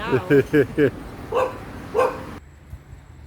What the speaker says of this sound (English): And of course, our good friend, Yappy Dog.